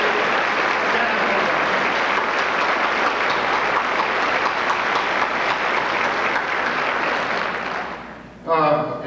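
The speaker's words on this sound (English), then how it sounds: "How about another round of applause?" A large audience at a 1985 reunion tribute dinner applauds loudly and steadily in a dense, sustained roar of clapping that fades near the end, when a voice begins speaking.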